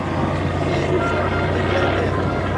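TBM Avenger torpedo bomber with its 1,700 hp Wright Cyclone radial engine and propeller at an airshow, a deep, steady drone heard from a distance, constant throughout with a voice talking over it.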